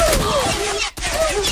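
Gunfire in the online shooter Zula during a bomb-defusal round: loud, dense bursts of rapid shots filling the clip, with one brief silent break just before the firing resumes.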